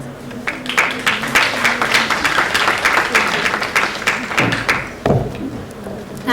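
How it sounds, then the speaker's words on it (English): An audience at an innovator pitch and award session of a health innovation event applauds a presenting team, with steady, dense clapping sustained throughout and a few louder individual claps near the end. "Please give them a huge round of applause."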